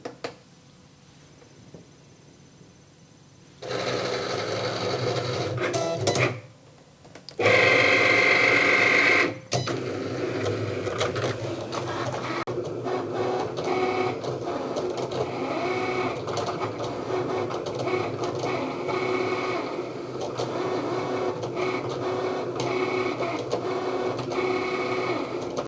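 An electronic cutting machine cuts through cardstock, a steady whirring motor drone with sharp higher buzzes as the carriage moves, running continuously at close range.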